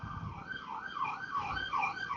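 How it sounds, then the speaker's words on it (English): An emergency vehicle siren wails outside in a steady rising and falling cycle, moderately distant and continuous, with no speech over it. "I'm going to let the siren go for a second because that's intended to drown everything else out."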